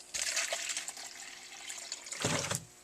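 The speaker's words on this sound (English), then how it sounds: "I think I want just a little bit more water in there." Water poured into a peat-based soil mix for seed-starting soil blocks: a steady hissing pour that runs for a few seconds, with a second louder splash near the end and no talking.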